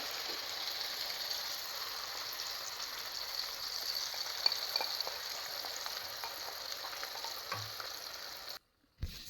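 Tomato paste goes into a reddened tempering of dried red chillies and curry leaves in hot oil, giving a steady, fairly soft frying hiss with faint stirring clicks that stops abruptly near the end.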